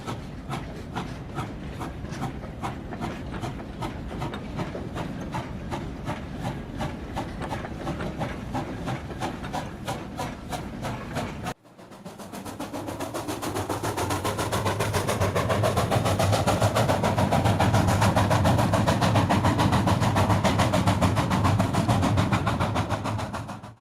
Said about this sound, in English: Once unloading is completed, the train is pushed back to the blue loader